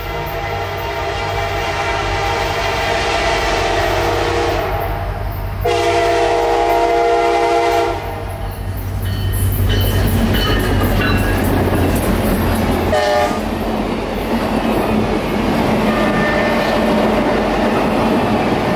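A loud CSX freight train horn blasts in long sustained tones as the train approaches, then rumbling wheels and clattering cars roll steadily past close by.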